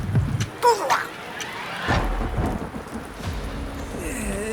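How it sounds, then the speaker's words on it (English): Thunderstorm on the exoplanet Kepler 22b, with loud thunder rumbles and cracking lightning strikes over steady rain, a deep boom near the two-second mark and lighter crackles later. "In storms this intense, you can easily expect to see frequent strikes of gigavolt lightning."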